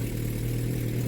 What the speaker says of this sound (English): Now the loud exhaust you're hearing is